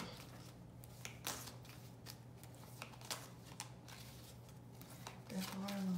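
Romance Angels oracle cards are shuffled close by in quick, papery riffling bursts over a quiet room, with a voice starting up at the end.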